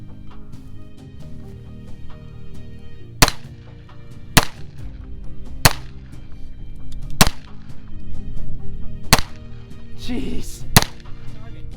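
A Taurus G3C 9mm budget pistol fires six sharp single shots at irregular intervals, close and loud, with a brief spoken exclamation in between.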